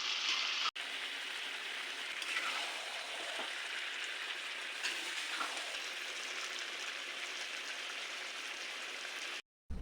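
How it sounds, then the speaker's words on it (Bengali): Duck meat being sautéed in a pan, a soft continuous sizzle with light crackle, steady and fairly quiet, briefly cut off near the start and again at the very end. "এইদিকে মাংসগুলোকে ভালোভাবে কষিয়ে নিচ্ছি।"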